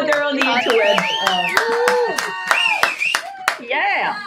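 A live crowd in Venice claps and applauds, sharp hand claps scattered throughout while voices talk and exclaim loudly over the applause.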